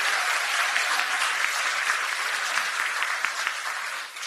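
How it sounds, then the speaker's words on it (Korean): An audience applauds at a political party election campaign launch rally in Seoul. The applause is dense and sustained, fills the whole stretch and sounds close and full. "서로 박수 한번 보내주세요."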